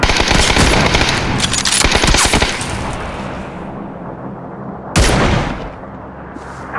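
Rapid automatic gunfire in the PC video game PUBG rattles out in loud, dense bursts, then fades to a quieter tail before one more sharp shot cracks out, with no talk heard.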